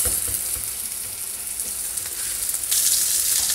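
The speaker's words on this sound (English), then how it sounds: "I'm just going to drop in these meatballs and start frying them." Loud, continuous sizzling and crackling of meatballs frying in hot oil, with a burst of brighter spattering near the end.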